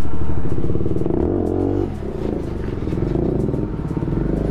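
A Bajaj Pulsar 125cc motorcycle turns sharply on a newly opened seafront drive, its engine rumbling loud and close with a revving surge at the start that eases after a couple of seconds into a steady clattering idle.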